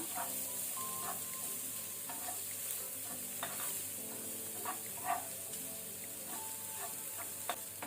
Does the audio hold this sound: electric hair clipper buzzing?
no